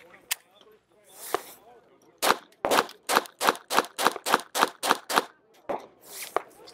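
A Glock 44 .22 LR pistol is fired in a quick, evenly spaced string of about ten sharp cracks at a SHOT Show demonstration, with scattered single shots before and after.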